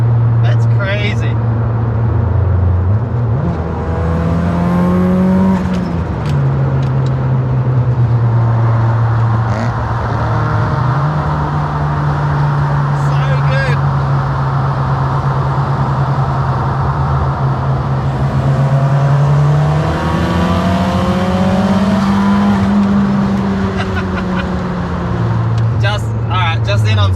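Mazda FD RX7 engine pulling hard through the gears in traffic, a loud steady drone that climbs in pitch and drops at each shift, recorded close with constant road roar and faint talk inside the car.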